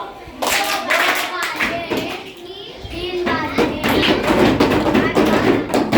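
Children in a classroom number activity clap their hands in counted rounds, then snap fingers and tap, the claps ringing out loud and close in uneven bursts while a teacher and children talk over and between them.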